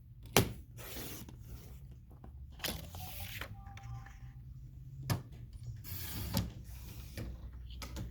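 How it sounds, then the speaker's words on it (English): A paper trimmer slices scrapbook paper for a Comfort and Joy workshop, with a few sharp clicks and short sliding cuts spaced across a quiet room, close and moderately loud. "Keep it in the trimmer tall and scoot it on down and cut it at 3 inches."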